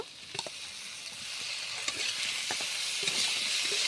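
Spiced mung dal sizzles with potatoes in a frying pan: a steady, close hiss with a few light stirring scrapes and no talking.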